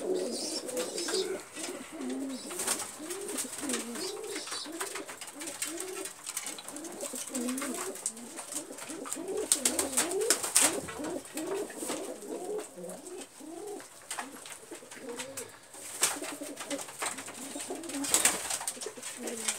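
Pigeons coo continuously in repeated low, throaty phrases, close and steady, with occasional chirps and light rustling, around a loft where birds are being released.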